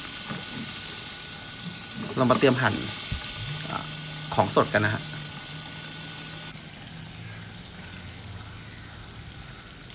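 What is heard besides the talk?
fish frying in hot oil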